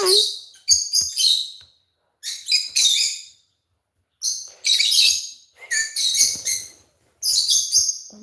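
Pet lovebirds chirp close by in a cage, giving bright, rapid bursts of tweets in repeated clusters with brief silent gaps between them.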